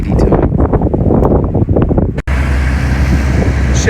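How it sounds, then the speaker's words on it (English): Heavy wind buffets the microphone outdoors at a beach house construction site in Barbados, a loud continuous rumble that cuts out briefly and then returns with a steadier roar. "sorry about the wind."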